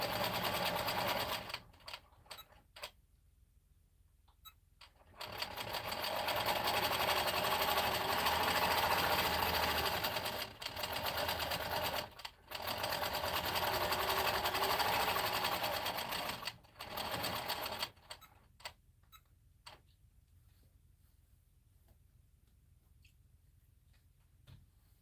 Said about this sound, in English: Go ahead and stitch in the ditch here.